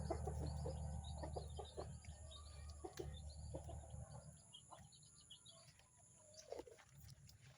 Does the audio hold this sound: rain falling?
no